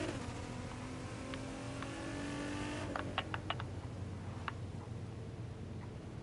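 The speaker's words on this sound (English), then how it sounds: "I don't like this sound at all of me just revving, not revving, accelerating." A car accelerating in the video game The Crew 2 gives a low, steady engine drone under faint ticking and clicking, quiet and even throughout.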